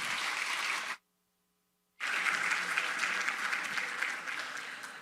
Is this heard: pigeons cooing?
no